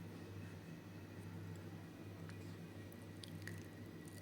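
Boiled, drained noodle pasta is stirred in a cooking pan, giving soft, wet squishing and sticky sliding sounds, faint and steady over a low background hum.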